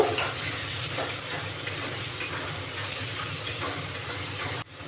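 Spice paste with Kashmiri chilli powder and turmeric being stirred in a pan for veg biryani, a soft steady sizzle under light scraping strokes, fairly quiet and close, with a low rumbling hum underneath.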